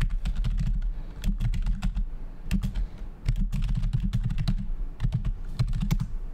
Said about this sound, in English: type in Vinny Emini two finger